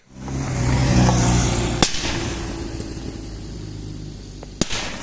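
A Fiat 126p engine revs up and winds down, then two sharp exhaust backfire bangs go off from the muffler, used to shoot a carrot, with one crack in the middle and another near the end.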